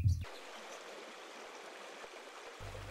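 Steady rushing of the Wda, a river running swiftly through a narrow, winding forest channel; a continuous mid-level broadband flow with no voices.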